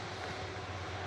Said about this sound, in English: There is a ATR coming in next to land.